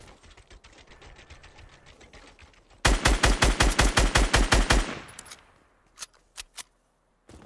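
Loud rapid bursts of automatic gunfire in a fast-paced shooter match, a tight string of about a dozen sharp shots followed by a few isolated single shots, over faint background game noise.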